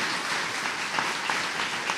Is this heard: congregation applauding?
yes